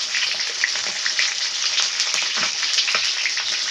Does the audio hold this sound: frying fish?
yes